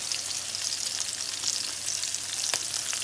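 Egg-and-breadcrumb-coated chicken fillets sizzle steadily in a frying pan, a dense crackling hiss with scattered pops, close and continuous, no voices.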